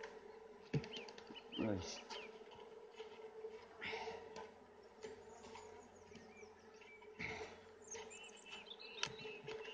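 Honey bees hum and buzz steadily around an open hive of Irish bees during a frame inspection, a continuous drone with brief louder passes close by and someone speaking briefly.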